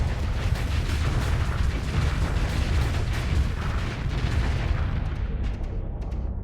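Battleship weapons fire in the Starsector video game, a dense, continuous barrage of booming cannon blasts and rumbling explosions, loud and sustained throughout and thinning slightly at the very end.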